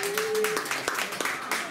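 An audience at a gathering breaks into brisk, close clapping for Cécile, a short burst of applause with voices talking over it.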